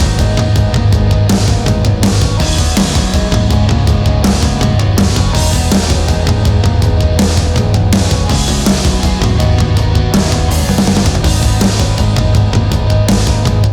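Robot Dog Drums, a rock drum sample library running in Kontakt, plays a loud, steady groove of punchy kicks, snares and crashing cymbals without pause, with no voices over it.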